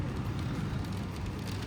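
Rain falls outside an open window on a cool evening, a steady broadband hiss that stays even and close throughout, with no voices over it.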